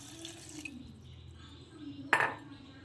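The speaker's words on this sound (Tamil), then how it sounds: "தண்ணி ஆட் பண்ணிக்கலாம்." Water is added to a mealmaker mixture: a quiet, low kitchen background, then one short, close splash of pouring water near the end.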